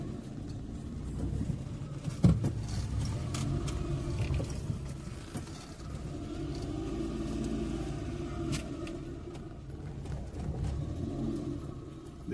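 A 2011 Suzuki Alto reverses into a parking space using half clutch and light throttle, with no braking. Its engine gives a faint, steady low hum with a brief bump near the start, and no one speaks.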